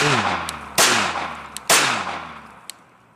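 Two sharp, loud Glock pistol shots fired at an old pumpkin outdoors, each a sudden blast followed by a long decaying echo, with a faint low hum in the background.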